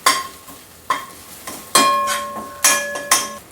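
Garlic sizzling gently in an oil-filled pan for a Marathi forest-vegetable bhaji, punctuated by several sharp metallic clinks of a spoon stirring against the pan, with no talk.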